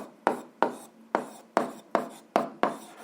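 Pen or marker strokes writing out an algebra problem on paper or board, heard as six distinct scratchy strokes in an even rhythm, close and moderately loud with no talk.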